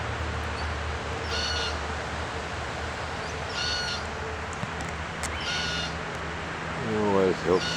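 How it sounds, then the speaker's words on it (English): In Perth, a crow gives a series of harsh, drawn-out caws, roughly every two seconds and at moderate distance, over steady outdoor background noise, with a brief voice and another bird sound near the end. "There's our crow."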